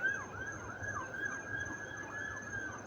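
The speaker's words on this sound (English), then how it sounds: "We're not far off the main drag, so you hear these sirens all night long." Emergency sirens wail continuously at a moderate distance, a steady rising and falling tone over faint background hum.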